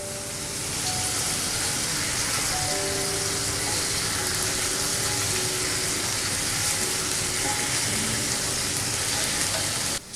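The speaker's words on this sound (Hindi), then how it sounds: "मीडियम फ्लेम पर हम 4 से 5 मिनट दूसरी तरफ से भी चिकन को पकाएंगे।" Chicken pieces fry in a pan over a medium flame, giving a steady, even sizzle and crackle that runs unbroken for about ten seconds, close and alone.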